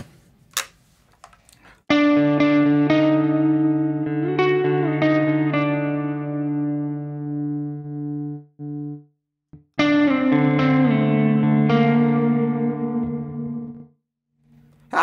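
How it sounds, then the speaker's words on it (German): A clean electric guitar rings out through a loud, long plate reverb, with picked chords and notes blooming into a lush, lingering tail, two phrases separated by a short gap, with no voices. "Und der Reverb ist auch tierisch. Das ist ein Plate-Reverb, ja?"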